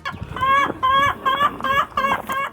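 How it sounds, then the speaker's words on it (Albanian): Chickens in a coop inside a castle cluck close by, about six rhythmic, drawn-out calls in quick succession. "brenda në kala ka kotec pulash"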